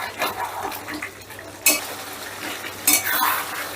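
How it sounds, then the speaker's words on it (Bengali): Chicken being stirred and fried in a pan for a Bengali kala bhuna, with spoon scraping and clinking against metal and a soft sizzle, close and steady with a couple of louder stirring bursts. "চিকেনটাকে ভালো করে কষে নেব"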